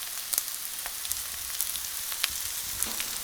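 Vodka chilli pork spare ribs sizzling in hot rendering fat, a steady close hiss of frying dotted with small pops and spits.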